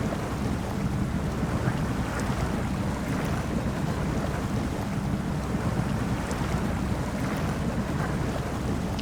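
A truck in the SnowRunner video game ploughs through swamp water, throwing up a continuous, loud, broadband wash of splashing and churning over a low engine drone, with no voices.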